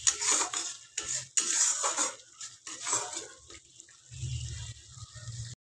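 Masala for chhana kofta being stirred and sautéed in a pan, with a utensil scraping and clinking against the metal in uneven bursts and a low sizzle underneath, close and moderately loud.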